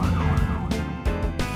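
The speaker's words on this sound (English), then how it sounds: "Ambulance to the rescue!" Cartoon ambulance siren wailing loudly and continuously with a rising and falling tone over a vehicle backdrop, brief and close, with no talking.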